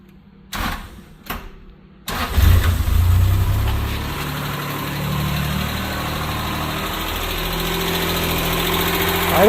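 A Libero engine cranks and catches, briefly revs, then settles into a steady low idle that runs on alone, loud and close, after a few short bumps of handling noise.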